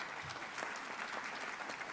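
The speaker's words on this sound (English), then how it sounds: "that deserves a round of applause" A conference audience at a small business event gives continuous, dense applause, a steady wash of many hands clapping at moderate volume with no talk over it.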